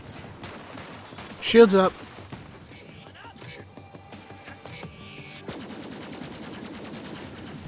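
Borderlands 3 gunfire comes as a loud burst of shots early on, followed by quieter scattered shots and game effects under a voice.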